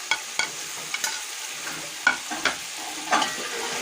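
Chopped tomatoes fry in hot oil for aloo matar pulao while a spoon stirs them, giving a steady sizzle broken by several sharp scraping clinks of the spoon against the pan, close and clear with no talking.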